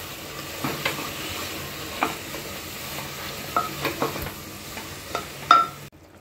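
Vegetables with spices are stirred in a pressure cooker: tomato, potato, carrot and bottle gourd. A soft background sizzle runs under scattered scraping clicks of a spoon against the metal pot, close and fairly quiet.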